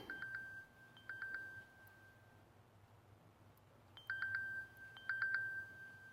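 A Samsung Gear S3 Frontier smartwatch set to low volume plays several quiet bursts of short electronic beeps, each group followed by a held tone, with pauses of near silence between the groups.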